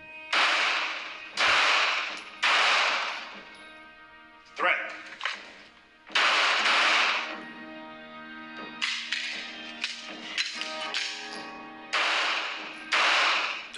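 Handgun shots ring out one after another on an outdoor firing range during a shooting test that begins at 25 yards. The sharp, loud reports come singly and in quick pairs, with a pause between groups.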